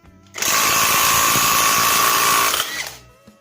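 An impact wrench loosens a nut in one loud, steady power-tool whir lasting a couple of seconds before it winds down and stops, heard up close.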